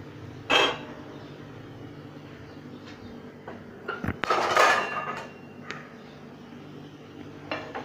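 Cooked French bean and potato sabzi is served from a pan onto a plate, with scattered spoon-on-metal scrapes and clinks, one sharp knock near the start and a busier cluster of scraping in the middle, fairly close and moderately quiet.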